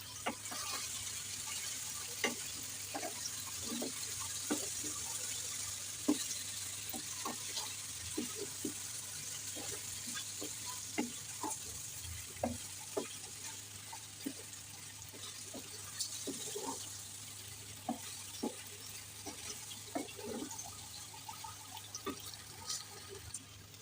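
Dry chili powder stirred into a sweet-sour-spicy dried jujube (boroi) pickle in a pan: soft, faint scraping and light clicking of a spoon, steady and unhurried, with a low background hum and no voices.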